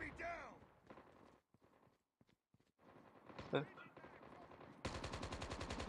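Gunfire in the mobile shooter game Call of Duty Mobile, scattered shots and a sustained automatic burst at the end, loud and close, with voices talking over parts of it.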